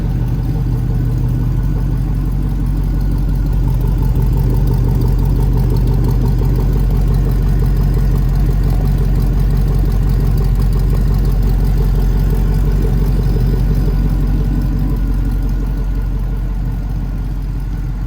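A 1992 Chevrolet C15 Blazer idles through its exhaust in a loud, steady, deep rumble that holds evenly for the whole stretch, close up and with no talk.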